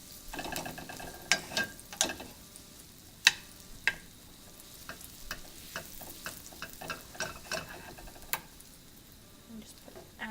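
Butter melts in a pan on low heat, giving a faint, steady sizzle at close range, punctuated by light clicks and taps of a utensil against the pan, with someone talking softly underneath.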